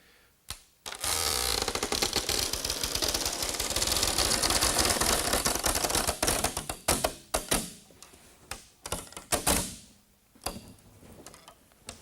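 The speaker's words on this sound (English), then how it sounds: "There's going to be a little creaking and a little noise that's going to happen on this" Dense, continuous creaking and ticking as wires stretch into the wood of a homemade boat, fairly close, running steadily for several seconds before breaking into scattered creaks and taps.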